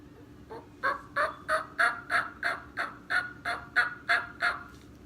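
A turkey mouth call used by a hunter mimics a turkey, giving a quick string of about a dozen loud, evenly spaced yelping notes that sound close and carry alone with no talk.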